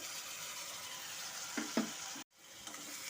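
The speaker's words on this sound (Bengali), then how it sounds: "এখন আলু আর কাঁঠালের দানার সাথে সমস্ত মশলার সাথে ভালো মতো করে কষিয়ে নেব" A paste of onion, garlic, ginger and green chili fries with potatoes and jackfruit seeds in a pan, a steady sizzle with a couple of stirring knocks, then a brief cut to silence before the frying resumes, with no voices.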